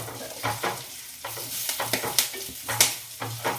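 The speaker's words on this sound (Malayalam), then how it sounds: "ആ സമയം കൊണ്ട് ആ ഉള്ളി ഒന്ന് ഇതായിട്ട് വരട്ടെ, വഴന്ന് വരട്ടെ" Onions sizzling in a hot pan while a spoon stirs them in quick repeated scrapes, the crackle rising and falling with each stroke, close and fairly quiet, no talking.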